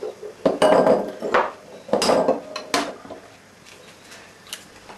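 Eggs cracked and separated into a bowl while making a lemon bombe, giving a few sharp close taps and clinks against the bowl's rim, then quieter handling.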